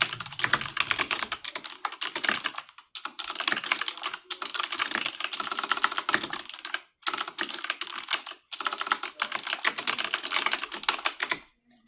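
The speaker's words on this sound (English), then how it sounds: "I love how fast you type." Rapid typing on a gaming computer keyboard rattles up close in dense, clattering bursts, broken by a few brief pauses between runs of keystrokes.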